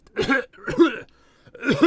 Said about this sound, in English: He coughed, and his voice was much clearer.